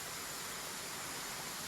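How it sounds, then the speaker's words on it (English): A waterfall in the Philippines gives a steady, broadband rush of falling water, soft and even throughout with no voices. "We're at this waterfall,"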